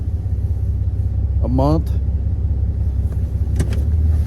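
An old truck's engine runs with a steady low rumble throughout, close and loud, while someone talks briefly over it.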